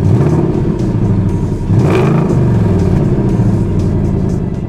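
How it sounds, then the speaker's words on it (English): A 2021 Ford Mustang GT coupe with a 5.0 V8 producing 460 horsepower idles with a deep, loud burbling rumble and blips once into a brief rev that swells and falls back, recorded close and with no talking. "Now what you're hearing is 460 horsepower coming out of a Mustang Coupe GT."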